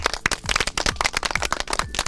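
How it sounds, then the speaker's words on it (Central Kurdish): Clapping for a boy named Malik in a village setting, a rapid, loud round of many sharp hand claps in an uneven burst that holds steady throughout. "یەک چەپڵە بۆ مالیک"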